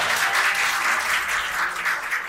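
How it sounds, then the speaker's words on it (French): An audience applauds the culture councillor at an evening event in France, a dense, steady wash of many hands clapping at close range with no voices over it. "On peut l'applaudir encore une fois"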